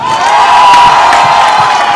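A crowd cheers and whoops at an evening outdoor gathering in Aïtchédji, Abomey-Calavi, a loud, steady wash of shouting voices sustained throughout.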